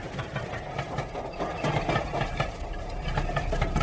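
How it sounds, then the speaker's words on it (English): A passing train, steady rumbling wagons with faint clickety-clack rhythm, continuous and fairly close throughout with no talk. "If only the trains would stop running."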